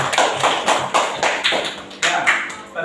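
An audience at an Indonesian school talk claps in a rhythmic, evenly spaced burst of about ten loud, close strikes.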